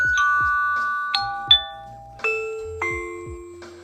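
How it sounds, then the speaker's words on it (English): An Aqara G4 smart video doorbell plays a loud, clear electronic chime: a sequence of about five bright descending tones, each struck crisply and left ringing into the next. "there are a few chimes to choose from in the Aqara app, and they're pretty loud so it's easy to hear"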